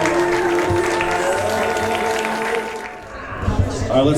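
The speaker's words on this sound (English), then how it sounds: "Big round of applause for your bride." Wedding guests applaud the bride, a crowd's clapping heard under music with a sustained sung voice, the applause swelling toward the end.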